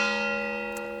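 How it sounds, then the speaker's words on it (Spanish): Church bells of the Church of the Assumption ring out from its tower, a steady sustained peal with long overlapping resonant tones, fairly loud and close, with no voices. "Estamos con las campanas de la Iglesia de la Asunción, de nuestra torre."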